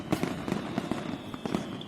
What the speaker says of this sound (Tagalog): Thank you, thank you, Boss Passion Pillars of Fireworks.